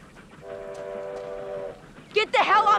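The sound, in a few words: train passing on tracks, film scene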